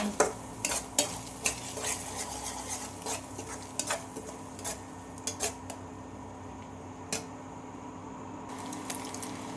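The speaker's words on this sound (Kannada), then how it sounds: "ಇದು ಉಡುಗುಡಿ ಆಗೋವ್ರಿಗೆ ತಿರುಗಿಸ್ತಾನೆ ಇರಬೇಕು" Scrambled eggs stirred in a hot pan for homemade egg rice, a spatula scraping and tapping repeatedly in an irregular rhythm over a steady low sizzle, close and moderately loud with no talking.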